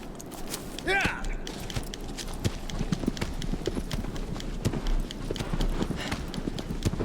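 Horse hooves in the video game Shadow of the Colossus beat a steady, rapid clip-clop throughout, with a brief whinny-like call early on over a constant low rumble.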